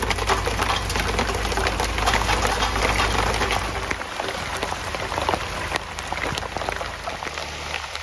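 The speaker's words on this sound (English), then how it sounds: "It's raining again. It's actually hail." Hail falls around a narrowboat, a dense, steady clatter of many small hard impacts close by, with a low rumble underneath that drops away midway.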